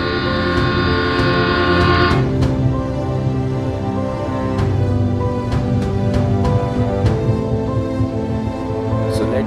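An incoming Indian passenger train sounds a long, loud horn blast for about two seconds, then continues with a steady rumble and clatter of rolling wheels, close by, with a few sharp metallic clicks.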